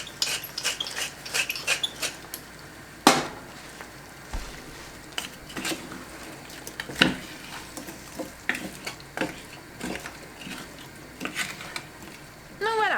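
A Lidl mix of carrot, cauliflower and broccoli cooking in a pan, with a low sizzle under repeated sharp utensil scrapes and clinks at an irregular pace, close by, with a few faint background noises.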